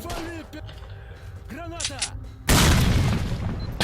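Grenade explosion in S.T.A.L.K.E.R.: Shadow of Chernobyl, a sudden loud broadband blast that follows earlier voices and game sounds and lingers as a rumbling roar to the end.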